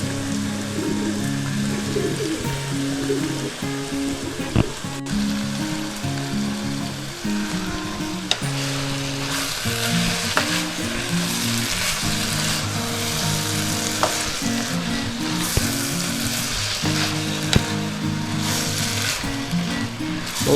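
Minced mungray (moong dal) fries in hot oil with white cumin and ground coriander, giving a steady, dense, close sizzle with stirring scrapes throughout and no voices.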